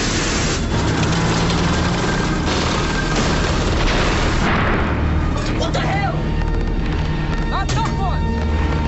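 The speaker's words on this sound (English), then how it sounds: "Artillery hits the bunker." An artillery shell exploding on a bunker in a beach-landing war video game: loud, heavy booms and rumbling blasts fill the scene, with voices shouting over the din.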